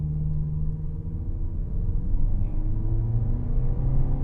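A 2021 Honda HR-V EX AWD accelerates hard in sport mode, its engine a steady low droning rumble with rising tone, heard from inside the cabin with no talk.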